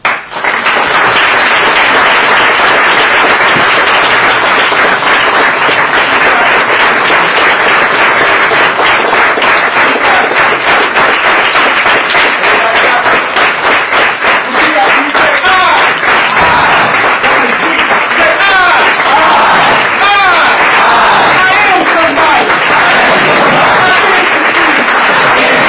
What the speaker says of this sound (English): Now, can I get you to clap your hands?